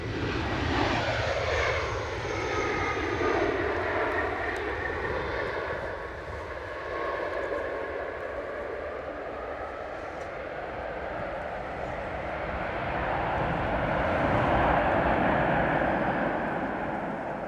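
A Vueling airliner's jet engines roar steadily at Edinburgh Airport, loud and continuous with a sweeping whine that shifts in pitch as the aircraft moves, swelling again toward the end.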